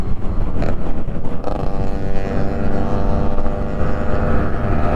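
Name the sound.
Yamaha RX motorcycle engine on highway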